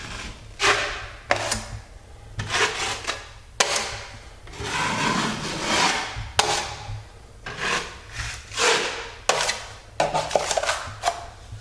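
Five-minute sheetrock joint compound being spread and wiped across a drywall patch with a metal knife, heard as repeated scraping and rubbing strokes in an uneven rhythm, close and fairly loud, with no talking.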